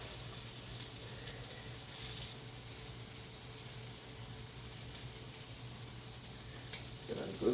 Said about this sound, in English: And all I'm doing is getting the sear on them.